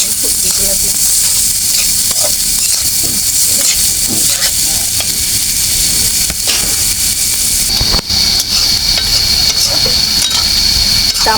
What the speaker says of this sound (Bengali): আলুগুলো আগে আমি ভেজে নেব